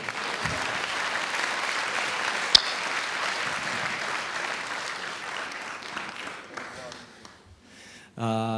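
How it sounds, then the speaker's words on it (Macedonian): Audience applause at a stand-up comedy show: dense, steady clapping fills the room for about seven seconds, then thins and fades before a voice cuts in at the end. "Спонтан аплауз, сега."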